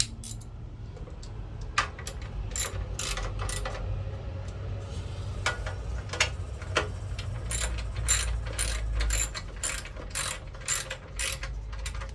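A ratchet tightens the chain guard on a 1986 Honda CT110, sounding as close, crisp clicking bursts in an irregular rhythm with short pauses between strokes, set against quiet background hum.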